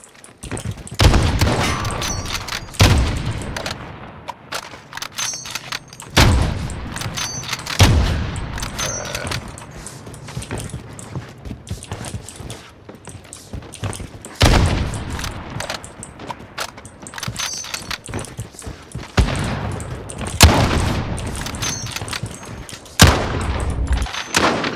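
Rapid bursts of gunfire in a one-versus-one shooter match crack out in clusters, loud and close, with sharp single shots and quick volleys separated by brief pauses and faint mechanical clicks.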